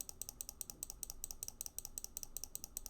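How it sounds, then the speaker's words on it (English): Rapid, rhythmic clicking from spam-clicking a mouse during Stardew Valley combat, a steady run of sharp, close taps about eight per second with no talking. "See, I'm just spam clicking right now."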